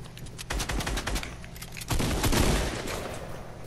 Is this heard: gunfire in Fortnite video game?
yes